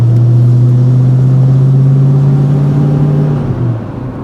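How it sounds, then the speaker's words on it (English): A 36-year-old Foxbody Mustang with a new exhaust, driving with a loud, steady low engine drone that holds an even pitch for several seconds, then eases off and fades slightly near the end, with no voices. "Well, the new exhaust sounds lovely."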